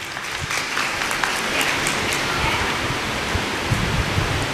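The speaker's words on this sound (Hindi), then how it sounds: "जोरदार तालियों से इनका स्वागत कीजिए।" A crowd at a Shrimad Bhagwat Katha religious gathering gives dense, sustained applause to welcome a donor, a continuous wash of clapping throughout.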